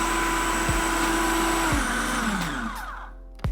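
A food processor blends carrot cake frosting with a loud, steady whirring motor whine that holds for a few seconds, then spins down as the blades slow, with a brief click at the very end.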